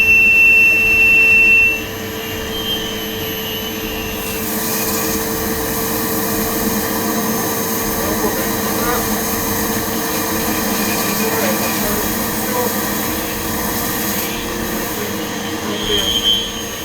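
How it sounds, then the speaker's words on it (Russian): A homemade workshop vacuum cleaner, built in about 20 minutes, sucking up a pile of sawdust: a loud, steady whining roar that runs throughout, briefly changing pitch as the intake meets the sawdust. "включаю пылесос, я его насыпал в гору опилок и посмотрим, как он работает"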